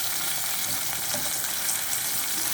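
Onion frying in a pan during a dinner cooking class, a loud, dense, continuous sizzle up close with no breaks and no voices.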